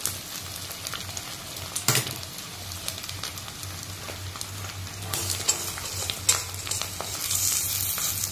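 An egg omelette fries in a pan for a Bengali egg omelette curry, its oil sizzling steadily up close while a utensil stirs and scrapes in bursts of louder crackle.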